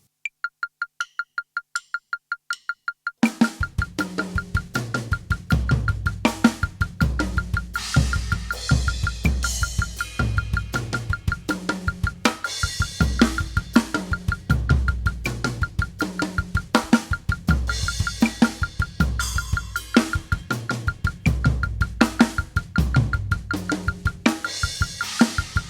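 A drum kit plays a fast, steady pattern of kicks and hits after a few clicks of a metronome, loud and close, repeating evenly throughout.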